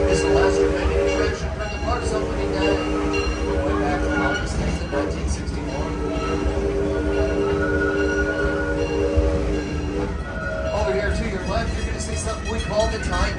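The Six Flags Over Texas park railroad, an attraction running since the park's opening day in 1961, rolls along with a steady mechanical rumble and sustained horn-like tones, with people talking over it throughout.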